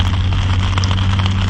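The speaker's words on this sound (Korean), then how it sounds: "밖에 빗소리가 그냥 잔잔하니 아주 좋다" Gentle rain falls steadily outside during an outdoor meal, a soft continuous hiss with low hum underneath and no voices.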